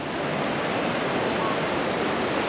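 Ocean surf rolls onto a beach in a dense, continuous roar of breaking water, loud and close with wind rushing across the microphone.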